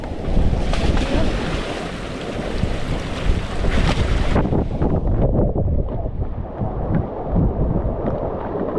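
Wind and heavy ocean waves on the open Pacific during Super Typhoon Egay, a loud, steady roar of gusts and surging water with wind buffeting the microphone, and no voices.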